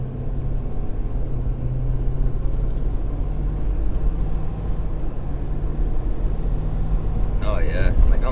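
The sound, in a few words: Ford Super Duty Powerstroke diesel truck hauling logs, shifting gears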